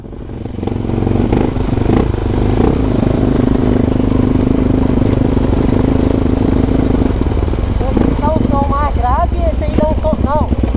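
A Honda XR Tornado motorcycle with an aftermarket exhaust runs steadily at a low idle for several seconds, close by, while voices talk over it toward the end.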